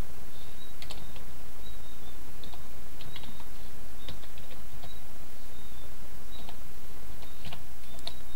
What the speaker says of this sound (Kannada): ಡೊಮೇನನ್ನು ಟೈಪ್ ಮಾಡಿ